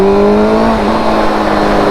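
A Suzuki GSXR600 K4 sport motorcycle engine revs hard with a loud, high, smooth wail, its pitch dropping slightly before holding steady, close and alone without talk.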